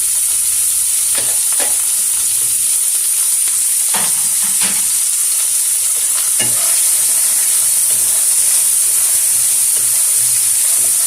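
Chopped garlic and red and green chillies frying in hot oil make a loud, steady sizzle close by, punctuated by a few sharp stirring clicks.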